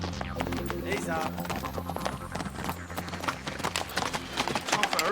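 Horse hooves clip-clop in a steady rhythm, with a droning, tonal background underneath.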